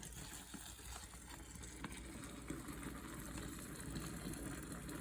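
Boiling water pours steadily into a mushroom grow-kit bag with a low, rushing gurgle and a constant hollow rumble underneath, continuous for several seconds with no voices.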